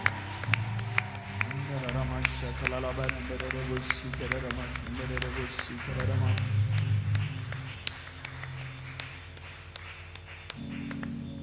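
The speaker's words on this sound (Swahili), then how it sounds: "hebu nisikie makofi yako na vigelegele ukimshangilia mwanakondoo" A church congregation claps along while worship music plays, with steady rhythmic handclaps, a crowd's cheering and high ululation over a band and singing voices, full and lively throughout.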